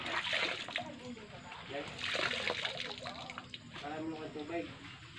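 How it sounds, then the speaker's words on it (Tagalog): Laundry is rinsed by hand in water, with repeated splashing and sloshing under a voice. "ako magbabanlaw na po"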